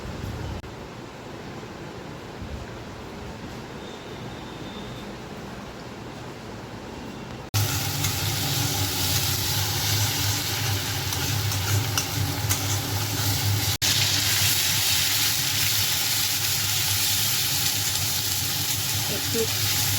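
Onion, chili, ginger paste, a dried chili and five-spice tempering sizzle steadily in a hot pan. The frying hiss grows noticeably louder partway through and stays continuous to the end.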